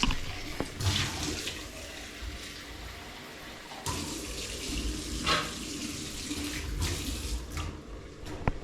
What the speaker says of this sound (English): Okay, add some water there.